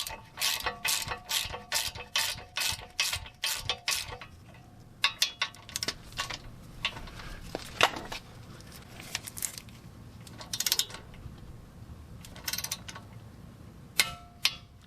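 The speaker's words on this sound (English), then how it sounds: "this is going to be torqued to 37 foot-pounds plus an additional 30 degrees" A ratchet torques a ball joint bolt on the control arm of a 2010-2016 GM car such as a Buick Lacrosse, Regal or Chevy Malibu, clicking in a rapid, even run of close pawl clicks, then in sparse, scattered clicks.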